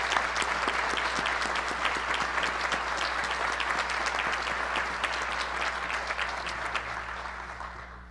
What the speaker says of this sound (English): Graduates, I invite you to recognize all of them with a round of applause.